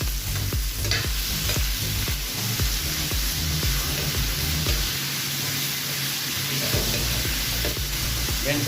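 Beef pieces sautéing in a pan for caldereta, with a loud, continuous sizzle and rhythmic scraping and stirring of a utensil against the pan close up, no talking.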